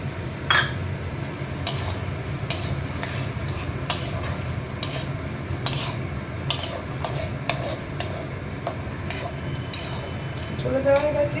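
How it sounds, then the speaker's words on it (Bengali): Chickpeas tipped into a pan of taro leaves sautéed with spices over medium-high flame, giving a steady sizzle with repeated sharp clinks and scrapes of a spoon against the pan. "এইবার আমি এই ছোলাগুলো দিয়ে দেবো।"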